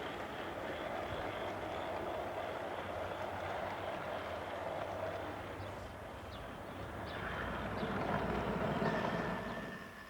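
A steady rumbling, chuffing drone of a model ex-Great Northern 0-8-0 steam locomotive hauling a mineral train up a 1 in 40 gradient, with faint clanks and a thin whistle-like tone near the end.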